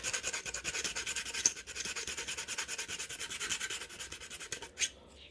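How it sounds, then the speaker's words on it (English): Steady back-and-forth sanding strokes on a 1/48 scale plastic model aircraft, close and rhythmic with a soft rasping texture, a brief knock near the end. "Let's keep sanding."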